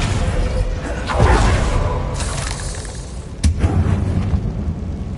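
A Bombarda spell explosion in Hogwarts Legacy, the video game, lands as a loud, booming blast around the one-second mark. A second sharp burst follows near three and a half seconds over a rumbling background.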